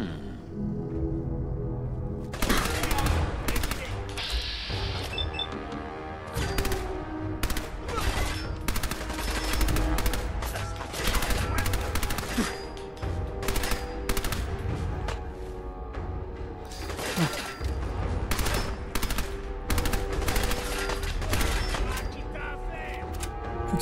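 Rapid bursts of gunfire from a Fallout 4 firefight crackle almost nonstop, with shots and short automatic volleys stacking up loud and close over a steady game soundscape.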